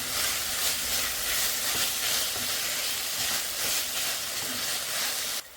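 Tomatoes and onions fry in a pan with a loud, dense, steady sizzle and hiss close up, running unbroken until it cuts off at the end.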